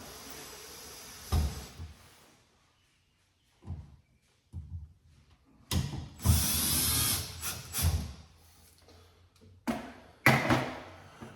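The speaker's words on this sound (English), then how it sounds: "Then we just have to tighten the screws down." A power drill tightens screws on an LED light fixture in several short whirring bursts separated by quiet pauses, with handling knocks between them.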